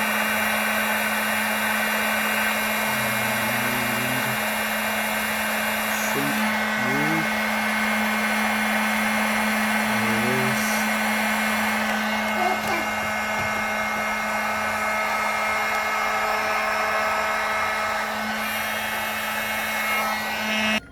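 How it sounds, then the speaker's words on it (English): A heat gun blowing with a steady whirring hum as it shrinks heat shrink tubing over crimped fog light wiring on a 2015 Toyota Sienna, running continuously, with faint clinks and shifting tones as it is moved. "Now we're going to use a heat gun to melt this here. The heat shrink."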